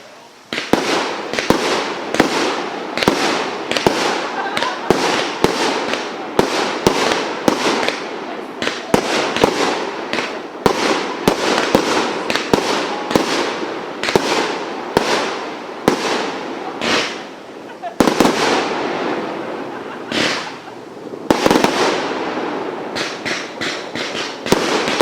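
A Dominator firework barrage fires in rapid succession, with sharp loud bangs and crackles repeating over about twenty-five seconds, close and continuous with only brief gaps.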